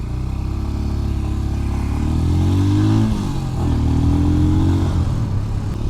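A Royal Enfield Scram 411 scrambler engine pulling in first gear, a loud, close single-cylinder thrum whose pitch climbs steadily, dips briefly at a shift or throttle change, then rises again, with wind rumble throughout.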